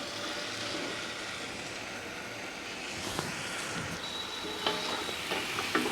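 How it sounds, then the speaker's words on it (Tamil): Cooked mutton with masala sautés in a pan for biryani, a low, soft sizzle running continuously with a few faint spoon scrapes and clinks toward the end. "நல்லா மசாலாலாம் உள்ளே போகிற அளவுக்கு கொஞ்சம் நேரம் வதக்கணும்."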